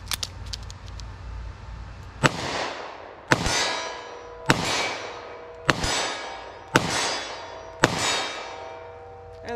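Six sharp .38 Special +P revolver shots from a compact gun, loaded with a Model 10 loader, crack out about one per second, each a loud clap with a ringing decay, close and alone.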